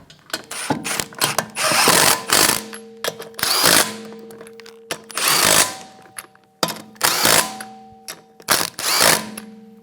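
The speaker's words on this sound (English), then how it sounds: "Install the lug nuts. And we'll go around and snug them down." Impact tool snugging lug nuts on the rear wheel of a 2013-2017 Honda Accord: repeated short loud ratcheting bursts, each a second or so long, with brief pauses between nuts, close by and without talk.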